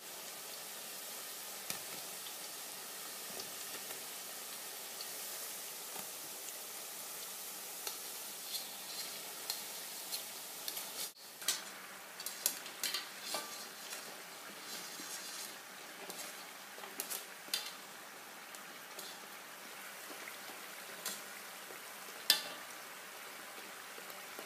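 Moroccan almond pastries frying in oil, a faint steady crackle with scattered small pops and ticks over about twenty seconds, quiet and unaccompanied by speech.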